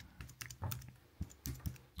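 Gibberish typing on a Huawei Ultrathin wireless keyboard, a slim Magic Keyboard lookalike: a quiet, close run of soft irregular key clicks in short bursts, with no talking.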